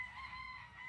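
A fighting cock crows in a brief, faint, drawn-out call at a cockfighting breeding farm, heard alone over a low background.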